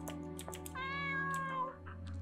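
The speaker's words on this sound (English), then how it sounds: "Oh, a cat." A cat meows in the video game Aria's Story, a short series of clear, close mewing calls with one longer, drawn-out meow in the middle over a soft background tone.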